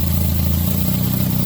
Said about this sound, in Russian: Заметили, да? Что двигатель стал работать неравномерно.